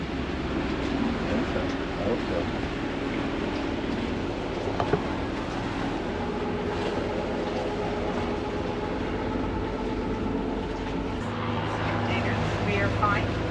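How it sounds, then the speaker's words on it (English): A fixed-wing airplane flying low over the landing path near St. Thomas in the US Virgin Islands, a sustained broad engine roar heard from a sailboat alongside wind and water noise, with people talking over it. "And that's a plane that we just avoided"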